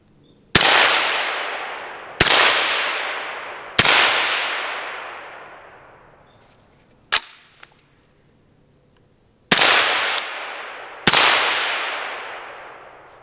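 Suppressed 5.56 rifle shots ring out close and sharp, five loud cracks spaced a second or two apart, each leaving a long decaying tail, plus a brief metallic clack in the middle, with no voices.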